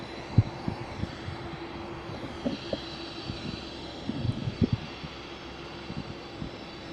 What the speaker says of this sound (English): the plane that carries the President of the United States is massive